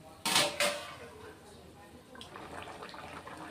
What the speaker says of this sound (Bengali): এখন বন্ধুরা আবার 5 মিনিটের জন্য ঢেকে দিচ্ছি।